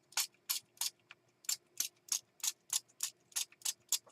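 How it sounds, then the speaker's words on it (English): About a dozen quick, hissing sprays of water from a spray bottle onto a mixed-media art board, evenly spaced in a steady rhythm, close and fairly loud with no talking. "I'm going to spray it with some water"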